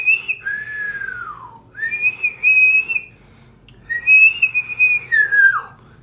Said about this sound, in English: And when you whistle through your mouth,